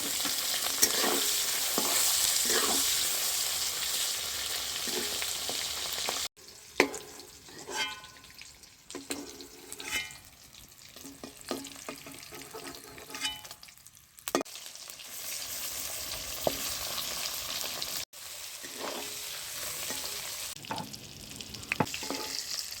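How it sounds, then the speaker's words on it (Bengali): Eggs fry one by one in well-heated oil in a kadai, a steady crackling sizzle broken by spatula scrapes and brief pauses, loud and close with no talking. "সমস্ত ডিমগুলো একে একে ভেজে তুলে নেব। ডিম ভাজার জন্য তেলটা ভালোভাবে গরম করে নিতে হবে"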